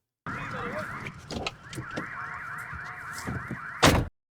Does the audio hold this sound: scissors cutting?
no